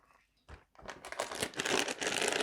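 A plastic baggie of game figures from a Gargoyles: Awakening board game is crinkled and handled up close, starting with a couple of soft rustles, then growing into louder, continuous crinkling.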